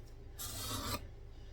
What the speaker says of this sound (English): We're just beveling the edge